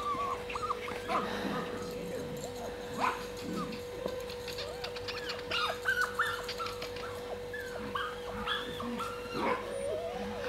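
Puppies whimper and yip in repeated short, high bursts while playing with a teenage boy indoors, near and moderately loud over a steady hum, with occasional soft voices.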